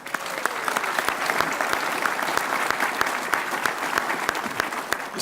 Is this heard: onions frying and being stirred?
no